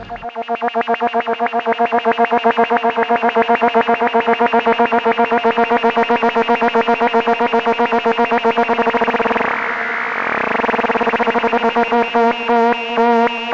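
A gritty, distorted industrial-style effect plays as a loud, droning tone chopped into rapid pulses. A brief dip in the middle thins it out before the buzzing chop returns and stutters to a stop.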